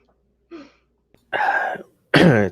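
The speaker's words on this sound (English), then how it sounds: "I'm gonna sneeze." A person builds up with a short breathy intake, then lets out two sharp, forceful sneezes close to the microphone, each a loud burst separated by a brief pause.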